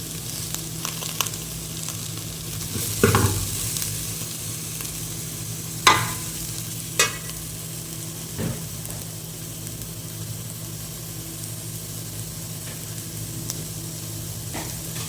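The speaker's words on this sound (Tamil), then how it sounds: "நம்ம இப்போ ஃப்ரை ஆகிட்டுருக்கு." Pan-frying for fish curry gives a steady, soft sizzle, with a few brief stirring clicks and knocks at scattered moments, fairly quiet throughout and with no talking.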